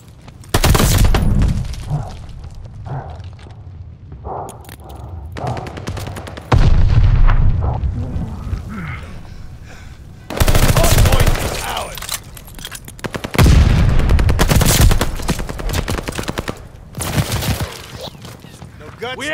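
Loud gunfire and booming explosions at a contested hardpoint in a ranked multiplayer shooter, coming in dense bursts with short lulls, under game voice callouts.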